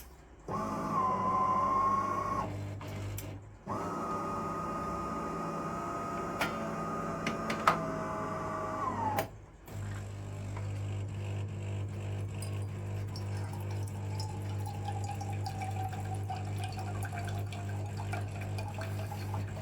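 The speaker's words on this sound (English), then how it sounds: "Okay, the machine is opening." A De'Longhi ECAM 650.85.MS espresso machine hums steadily while opening and rinsing, water running and gurgling through it in long stretches, broken by brief clicks and a short pause midway.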